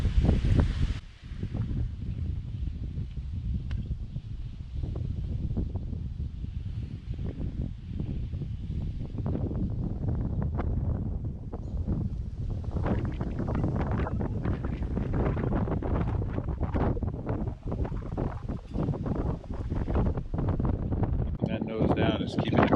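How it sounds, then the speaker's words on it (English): Strong wind roars steadily against the microphone at a campground at Mongaup Pond in the Catskills, with tent fabric flapping and rustling in gusts throughout. "It's gotten awfully windy. I'll give you a quick look at the tent blowing in the wind."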